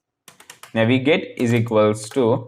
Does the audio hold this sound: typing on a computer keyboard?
yes